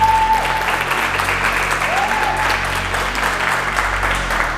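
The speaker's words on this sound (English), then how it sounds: "can we give Desh and her team one hell of a round of applause?" A workshop audience at Kia Brackenfell gives a loud, sustained round of applause, dense clapping that fills the whole stretch without a break, with a faint whistle near the start.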